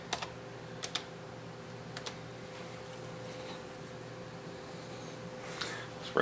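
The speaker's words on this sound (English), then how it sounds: "Let's write a simple program." A PS/2 keyboard attached to an RC2014 retro computer is typed on in short, sparse clusters of crisp keystrokes against a steady background hiss, with a louder key press at the very end.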